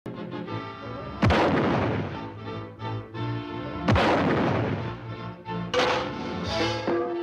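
Three loud, booming cartoon firecracker blasts with sharp onsets, each trailing into a crackling, rumbling decay, separated by a few seconds of ringing tonal noise.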